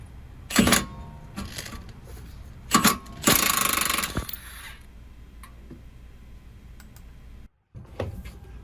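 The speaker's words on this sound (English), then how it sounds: "I'm going to use the impact wrench for this as well." An impact wrench spins a ball joint nut off a Hyundai Elantra during a ball joint replacement. Several short, loud, close buzzing bursts and one longer rattling run are separated by quiet pauses.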